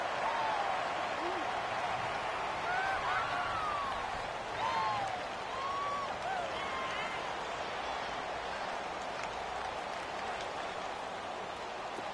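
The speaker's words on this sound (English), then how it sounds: "The crowd getting into it as we come up on a big 3rd down." A football stadium crowd roars in a broad, steady wash of cheering that lasts throughout, with scattered whistles and shouts rising above it.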